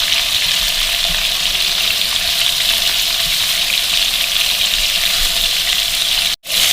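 Beef koftas frying in hot oil in a pan, a steady loud sizzle throughout as they are stirred, with a brief break near the end.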